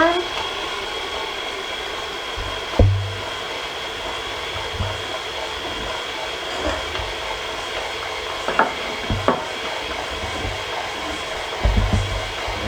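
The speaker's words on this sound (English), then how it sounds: "my mixer really struggling" An electric stand mixer, 4.5 to 5 quart, strains while kneading heavy Easter bread dough, giving a steady whirring motor hum with periodic low thumps and knocks as the dough slaps around the bowl.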